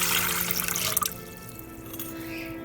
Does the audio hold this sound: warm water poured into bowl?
yes